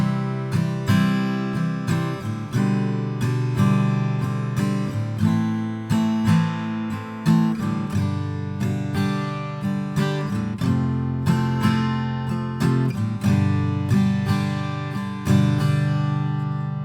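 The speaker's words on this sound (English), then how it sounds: "the easy strummed way of playing the verse sounds like this" Acoustic guitar strumming the easy verse chords of a song in a steady down-down-up-up-down-up pattern, close and full, played alone without any voice.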